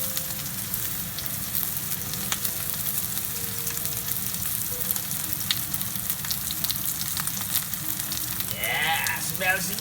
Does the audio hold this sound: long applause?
no